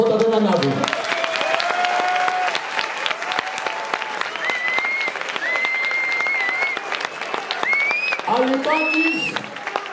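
An audience at the Mr Odysseia 2022 event applauds loudly and continuously for the full stretch, with an announcer's amplified voice and some crowd voices rising over the clapping.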